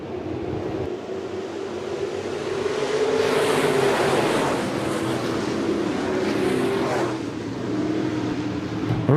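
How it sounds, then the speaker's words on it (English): Sportmod and modified race cars at Shelby County Speedway rev up out of turn 4. Their engines swell into a broad, loud roar mid-pass that is mixed with wind rush, then ease slightly. "RPMs come up as they come out of turn 4, looking for green."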